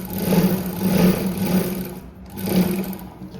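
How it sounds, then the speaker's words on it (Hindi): A sewing machine runs double stitching on a blouse, its motor whirring in short close bursts that swell and ease, with a brief pause midway. "यहाँ पे भी हमें डबल सिलाई लगा देनी है।"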